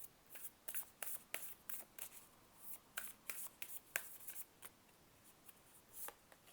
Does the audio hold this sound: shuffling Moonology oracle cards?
yes